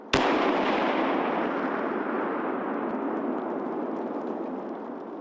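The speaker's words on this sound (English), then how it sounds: "3 kilograms of explosive blow up." Three kilograms of explosive detonate at a military counter-IED training course, a single sharp blast followed by a long rumbling decay that fades slowly over several seconds.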